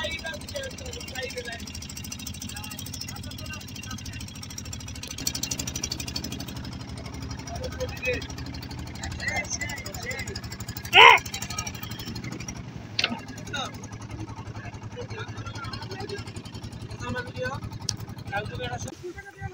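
A trawler's engine drones steadily on the Jamuna River near Chowhali, Sirajganj, a low continuous hum with occasional knocks and clatter, while faint voices come and go.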